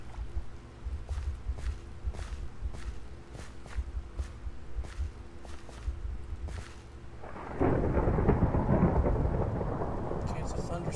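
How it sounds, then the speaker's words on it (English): Rain falls steadily in a Minecraft world while thunder rolls, then a heavy downpour surges in loudly for the last few seconds, with faint regular footstep-like ticks underneath. "Okay, it's a thunderstorm."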